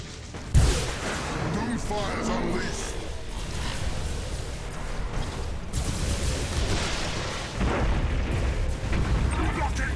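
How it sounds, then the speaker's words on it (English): Warship guns fire in Battlefleet Gothic Armada 2, a space fleet battle game, as a few heavy booms punch through a dense, rumbling wash of battle noise that continues throughout. "Conqueror is on rapid reload now just to get the guns firing."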